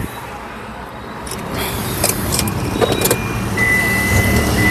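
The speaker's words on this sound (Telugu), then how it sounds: "సింగిల్ సెల్ఫ్లో కార్ స్టార్ట్ అవుతుంది ఎటువంటి స్టార్టింగ్ ట్రబుల్ అయితే లేదు" A 2015 Hyundai Grand i10 car engine starting on a single crank and settling into a steady idle, close and fairly loud, with a few clicks and rattles at the start.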